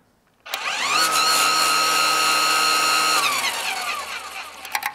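A DeWalt 60V lawn mower with a two-speed motor starts up and runs on its low setting, giving a steady close whine that holds for a few seconds and then winds down.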